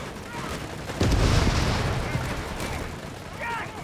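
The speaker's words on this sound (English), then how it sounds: "the Assault Grenadiers putting up a fierce fight to defend the half-track" Assault Grenadiers fighting to defend a half-track in Company of Heroes 3, with dense, continuous gunfire and booming blasts rolling together into a loud, unbroken battle din.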